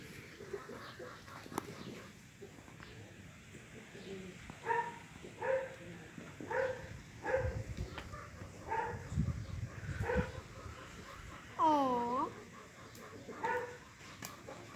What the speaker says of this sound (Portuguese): A porra já tá latindo.